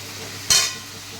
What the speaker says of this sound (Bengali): এরপর এর মধ্যে দেবো হলুদ গুঁড়ো, লঙ্কার মানে কাশ্মীরি লঙ্কার গুঁড়ো দিয়ে একটু ভালো করে নাড়াচাড়া করতে হবে।